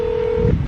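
A single telephone dialing tone sounds steadily for about half a second, then stops abruptly, leaving a low background rumble.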